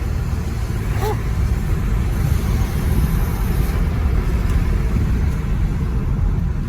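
A worn, neglected Chevy Impala's engine strains under load while a drive wheel spins during a transmission check: a loud, steady low rumble that holds for the whole stretch, with no voices.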